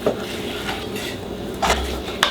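A knife cutting beef on a board, heard as a few sharp chopping knocks spaced across a quiet kitchen background, with faint clinks of utensils.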